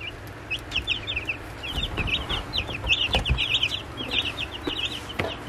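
Young Rustic Ranger chicks in a warm off-grid brooder give a steady stream of high, short chirps and peeps, overlapping and fairly close, over a low background hum.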